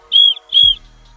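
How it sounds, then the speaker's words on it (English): Survival kit whistle blown in two short, shrill blasts, each about a quarter second long with a brief gap between them, loud and close, followed by a low thump and quiet. "whistle,"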